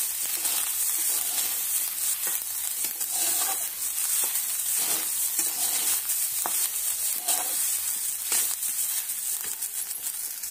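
Lemon rice with chopped coriander is stirred in a hot pan, a soft steady sizzle layered with repeated scraping and tossing strokes from a spoon, close and continuous without speech.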